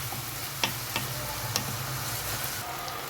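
Vegetables and spices fried in a pan: steady soft sizzle throughout, with a few light clicks of a utensil stirring against the pan, fairly quiet and with no voices.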